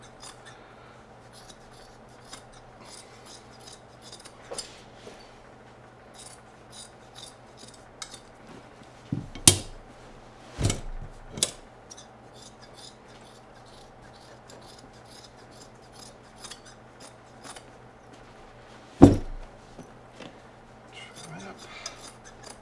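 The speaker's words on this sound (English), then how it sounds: "when you get into a couple of layers here of mud cloth, it really gets hard to cut it" Scissors cut slowly through several layers of Malian mud cloth during ottoman upholstery work, giving faint, sparse snips and rubbing scrapes, with a few louder clunks at intervals in an otherwise quiet room.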